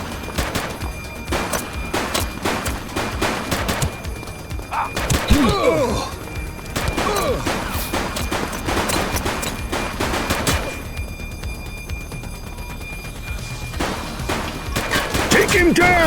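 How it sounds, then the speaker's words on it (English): Video game gunfire in The Precinct, a police action game. Dense, continuous volleys of shots and thuds fill the scene, with a brief siren-like wail partway through, and gameplay voices can be heard beneath the shooting. "He's shooting!"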